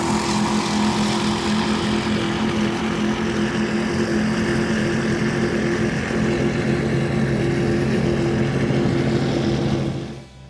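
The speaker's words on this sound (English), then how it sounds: "Let's listen into these turbocharged Mercury Racing engines." A Cigarette 515 powerboat with turbocharged Mercury Racing 1350 engines drones steadily and loudly at speed, a dense, continuous roar that stays even throughout before cutting off abruptly at the end.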